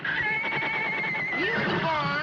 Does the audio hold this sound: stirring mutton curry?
no